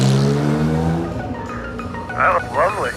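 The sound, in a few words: Acura race car starting and pulling away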